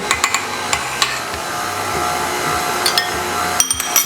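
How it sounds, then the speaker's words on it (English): An electric mixer runs with a steady motor hum while creaming cookie dough for chocolate chip Oreo cookies, close and fairly loud, with scattered clinks and taps of the beaters against the bowl. "Turn off our mixer."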